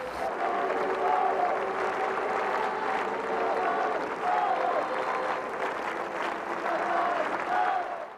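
A large crowd applauding for Pope John Paul II, a sustained, dense roar of clapping that swells in waves with cheering voices faintly rising within it.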